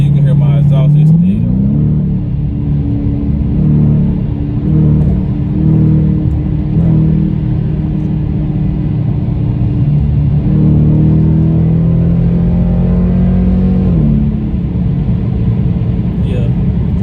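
A Dodge Challenger or Charger engine and exhaust rumble loudly and rise in pitch as the car accelerates, holding a steady drone before easing off near the end.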